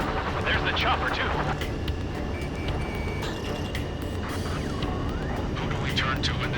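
A helicopter in the Ace Combat 7 video game thrums steadily under a dense mix of game engine roar, radio chatter and sound effects, with voices speaking throughout.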